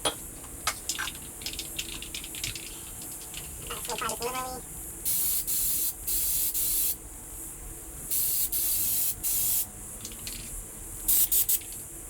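Maxima Racing Oils air filter cleaner sprays onto a motorcycle foam air filter from a KLX 230 ABS in repeated bursts of loud, steady hiss, each lasting about a second and separated by brief pauses, with rubbing sounds between them.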